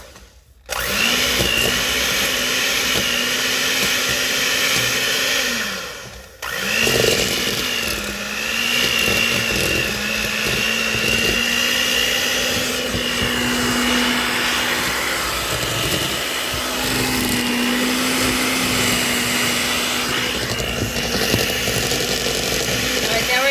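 Steady electric whirring of a mixer churning thick peanut butter cookie dough, loud and close, motor pitch wavering slightly as it runs for a long stretch.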